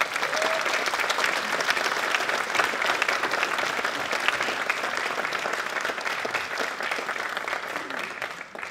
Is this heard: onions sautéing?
no